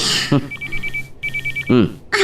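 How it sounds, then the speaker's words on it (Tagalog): A telephone bell rings in a domestic drama scene, two bursts of rapid trilling rings separated by a short pause, with a voice speaking briefly before and after. "Ti telepono"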